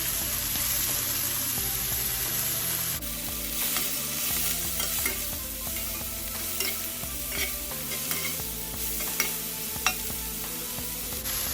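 Mushrooms and onions fry in a cast iron pot with a loud, continuous sizzle, broken up by repeated scraping and clinking stirs after the first few seconds.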